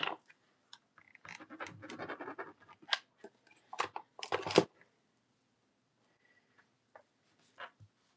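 Scissors snipping plastic stencil binder inserts up close: short bursts of crisp cutting and rustling sheets, then sparse clicks and a few isolated snips against quiet.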